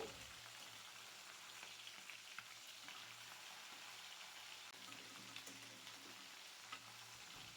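Sea fish frying in oil in a pan as it is flipped partway through cooking, a steady faint sizzle with small crackles and pops running throughout, no voices.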